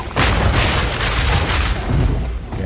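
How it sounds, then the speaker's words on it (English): Cluster grenades in a video game skill showcase set off a loud rolling run of deep booms and crackling blasts. They overlap into a sustained barrage for nearly three seconds. "Cluster grenades."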